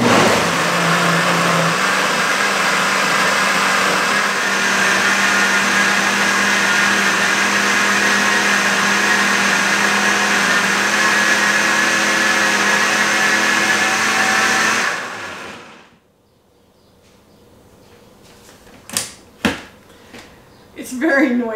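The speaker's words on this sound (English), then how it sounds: "But if you do have a blender or a food processor," A blender or food processor purees carrot soup with a loud, steady, grinding whir that runs for about fifteen seconds, then cuts off, leaving quiet with a few clicks and knocks.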